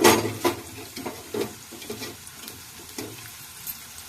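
Cut carrot and beetroot pieces fry in a pan, a close sizzle broken by repeated scraping stirs roughly every half second, fairly loud at the start and settling lower.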